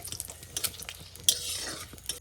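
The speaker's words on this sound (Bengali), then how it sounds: "তেল গরম হয়ে গেছে এই যে ফোড়নের জন্য তেজপাতা আর শুকনো লঙ্কা দিয়ে দিচ্ছি এটা একটু ভাজা ভাজা হবে" Bay leaf and dried red chillies fry in hot oil as a tempering for a squid curry, a quiet crackling sizzle broken by light spoon scrapes and a sharp metallic tap.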